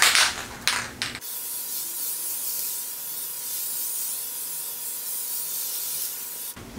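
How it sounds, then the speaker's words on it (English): An aerosol can of spray adhesive hisses steadily while coating an amp cabinet, one sustained close spray lasting several seconds, framed by short bursts of handling noise at the start and end. "there's going to be overspray, so cover your area that you don't want glue on"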